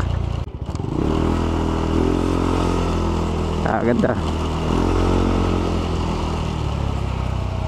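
A Yamaha Aerox v1 scooter engine revs as the throttle is twisted, giving a close, steady drone with a brief surge near the middle. People talk over it throughout.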